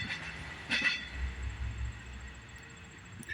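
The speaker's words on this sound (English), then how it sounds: "Oh, there goes a train." A train rolls past at a distance with a low rumble and faint rail clatter, a short squeal or horn-like burst early on, heard outdoors near a mountain bike project.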